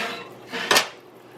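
A cooking pot holding stuffed peppers is shifted across a stovetop, giving a single close metallic scrape and clank with a short clatter around it, then quiet.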